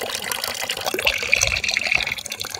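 A gentle, weak flow of clean water runs in a stream at Sitio Haduan. It makes a close, bubbling, splashy trickle with uneven gurgles and no voices.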